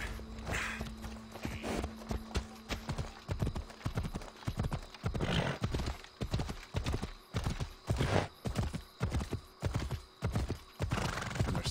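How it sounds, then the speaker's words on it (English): A horse in the video game Assassin's Creed Odyssey clip-clops along in a steady trotting rhythm after a whinny, hooves loud and close over a faint game backdrop. "See, I'm outside now, so now I'm calling my horse."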